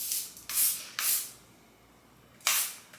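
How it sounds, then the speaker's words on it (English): An aerosol hairspray and a heat protectant spray onto hair in three short, close hissing bursts, the last after a longer pause, with no talk. "So now we have the heat protectant and the hairspray."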